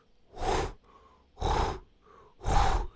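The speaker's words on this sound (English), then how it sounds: "kind of breathing sound." Three slow, heavy breaths from a person in a tabletop role-playing game scene, each a loud rasping exhale spaced about a second apart, with faint softer inhales between them.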